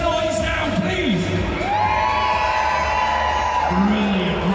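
Loud crowd at a Butlin's action sports extreme event screaming, whooping and cheering continuously, with shouting voices rising and falling throughout.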